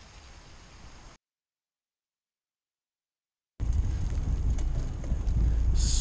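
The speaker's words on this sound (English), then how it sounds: "It's raining." Rain falls steadily around a cyclist on a long audax ride, a dense hiss mixed with wind buffeting the microphone, cutting out to silence for a couple of seconds before returning louder and heavier.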